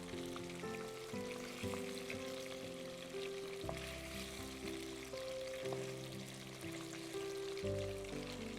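Chicken pieces frying in hot oil for butter chicken, a steady sizzling hiss running continuously throughout at moderate volume with no talk over it.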